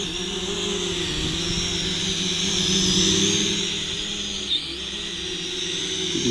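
A Le Idea 7 DJI Mavic clone drone landing on its own, its propellers giving a steady, close, continuous whine and buzz with slight shifts in pitch, no talking.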